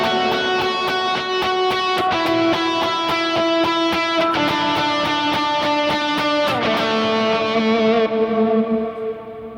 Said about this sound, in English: So that is when I played simply just the root notes.